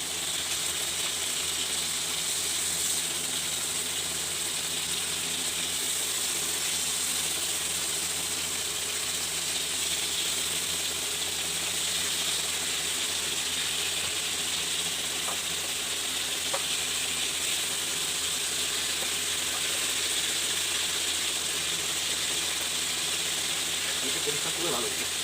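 Hilsa fish frying in oil and being flipped over in the pan: a continuous close sizzle with a few faint clicks and scrapes from turning it.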